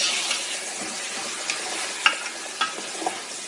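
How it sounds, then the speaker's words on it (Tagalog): Beef, one and a half kilos of it, sautéing in a pan for a beef stew, with a steady soft sizzle and a few light clinks and scrapes of stirring throughout. "I add 1½ kilo of beef. Make it saute."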